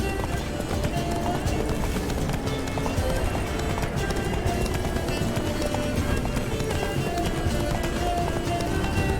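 A horse gallops in The Witcher 3: Blood and Wine, a rapid continuous clip-clop of hooves at a steady running rhythm, mixed with game ambience and a possible occasional neigh, with talking over it.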